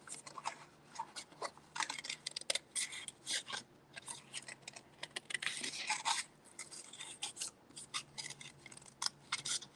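Scissors fussy cutting craft paper up close, a steady run of short crisp snips and rasping cuts continuing almost without pause, with a faint hum underneath.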